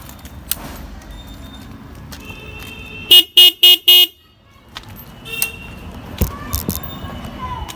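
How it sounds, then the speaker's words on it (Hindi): A Honda H'ness CB350 or Benelli Imperiale 400 retro roadster motorcycle with a single horn gives four short, loud, evenly spaced honks, standing out against quiet outdoor ambience. "एक बार इसकी हॉर्न की आवाज़ सुन लेते हैं। इसमें सिंगल हॉर्न सेटअप है।"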